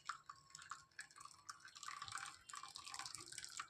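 Tridax procumbens soup is poured into a bowl, giving faint, close liquid splashing and trickling with uneven drips and surges.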